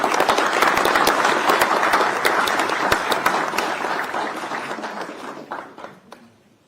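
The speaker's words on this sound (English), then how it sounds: "let's give them a round of applause when we bring up our next speaker" Sustained applause from a full audience at a national security strategy conference at a Washington think tank, loud and crackling with sharp individual claps. It thins and fades out over the last second.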